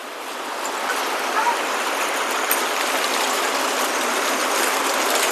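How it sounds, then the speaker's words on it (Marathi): Heavy rain pouring down outdoors, a loud, dense and steady roar of falling water that continues without a break. "आता बघा किती पाऊस चाललाय जोरात"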